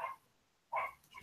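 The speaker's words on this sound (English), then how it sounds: "Oh, that's a dog." A dog barks twice, a short bark at the start and a louder one after a brief pause, fairly close, with no talking.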